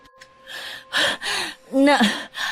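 Panting gasps and heavy breaths from a person who has just run home in a Filipino aswang horror story, several sharp breathy bursts, close and fairly loud, with a voiced gasp near the end.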